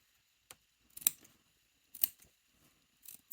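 Sharp scissors snip into the fabric seam allowance of a piped cushion cover near a corner, four crisp, close cuts spaced out with brief pauses and quiet handling between them.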